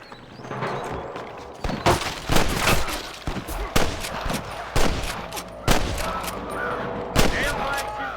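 A Red Dead Redemption gunfight with repeated loud gunshots cracking out every second or so over a steady din of battle, some shots close and sharp, others quicker in short volleys.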